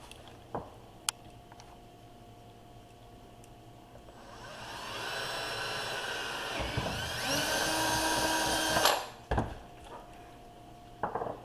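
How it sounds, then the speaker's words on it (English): A power drill whirs up and runs steadily for several seconds with a high whine while drilling a hole in a homemade chum pot, then stops abruptly; a few clicks and knocks before and after. "I'm going to drill it out, put a string through here. Drill that now."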